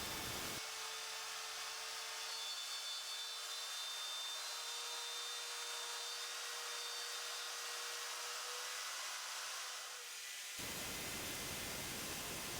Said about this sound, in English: With the small trim router, I'm using a 1/2 inch straight bit to create the backbone of the number line.